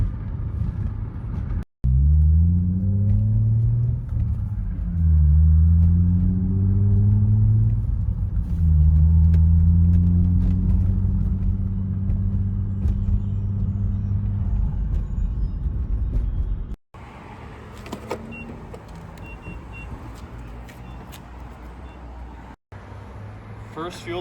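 A 1994 Acura Legend GS six-speed manual sedan on the road around Phoenix, its engine droning loud and steady from inside the cabin, pitch rising and falling through gear changes, with road rumble throughout and a sudden drop-off near the end.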